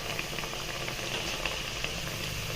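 Papaya pakoras frying in hot oil, giving a steady sizzling hiss with scattered small pops and crackles throughout, close and continuous.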